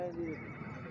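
A four-year-old mare at a horse market gives a short, high whinny that fades within half a second, with voices talking nearby.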